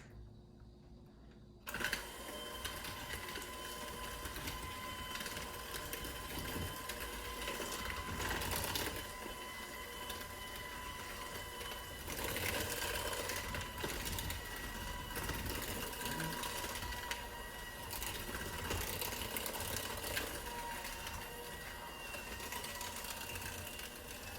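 Brownie batter being mixed gives a steady mechanical whirring that starts after a brief quiet moment, then runs continuously with small swells in loudness and no talking.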